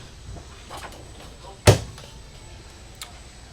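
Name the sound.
soft-close drawer closing in an RV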